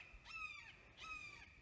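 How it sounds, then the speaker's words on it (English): Loud crow cawing outdoors, two harsh calls close by, each a drawn-out descending caw, with no talk. "that's a loud bird."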